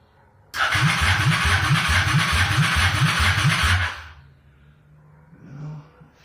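A 2001 Honda Shadow ACE 750 lowrider motorcycle cranks over with a loud rhythmic starter chug for about three seconds, then stops, leaving a faint low idle-like hum and a brief soft noise after.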